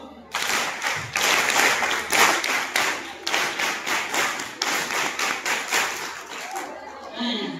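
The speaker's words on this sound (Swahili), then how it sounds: "Kabisa makofi matano mazuri kabisa" Rhythmic group clapping at a girls' school event in Nairobi: a series of sharp, loud, evenly spaced claps in five rounds, each round a quick cluster of beats, ending in a short pause and some fainter noise.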